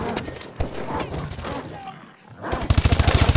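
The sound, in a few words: suppressing gunfire in video game Call of Duty: Advanced Warfare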